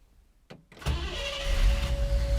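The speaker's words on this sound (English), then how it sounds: "go ahead and crank the engine, but watch the RPMs. It should say syncing, and the engine should start up." A car engine fitted with a Holley Sniper EFI system cranks briefly and then catches, rising into a loud, steady running roar with a sustained whine, close up with no talking.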